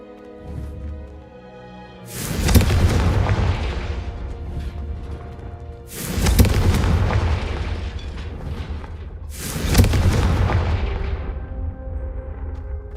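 Three loud booming blasts of the Confringo spell in Hogwarts Legacy, each a sharp burst followed by a rumbling roar several seconds long, coming at roughly four-second intervals over a low background hum.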